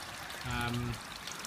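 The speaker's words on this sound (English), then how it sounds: "water flows in through the top and goes through the lava rock" Water pours from an overflow into an aquaponics biofilter packed with lava rock, a brief soft splashing trickle that swells for about half a second over low background hiss.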